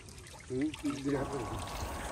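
Fish fry are released into pond water, giving a short splashing pour and trickle that swells suddenly and keeps running, while a voice speaks over it.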